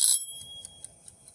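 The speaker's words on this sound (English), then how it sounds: "Okay, so our timer is done" A kitchen timer goes off during strawberry jam canning: a brief bright ring at the start, then a few faint, evenly spaced high ticks or chimes in a quiet kitchen.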